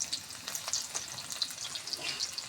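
Chopped onion with two bay leaves frying in oil in a wok, a steady close hiss and crackle with scattered bright pops, continuous and unbroken throughout, with no voices over it.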